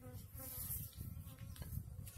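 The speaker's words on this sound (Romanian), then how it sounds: "cum viețuiesc albinele în butoi" Honeybees buzz steadily in a barrel hive, a dense low drone close by that holds without pause.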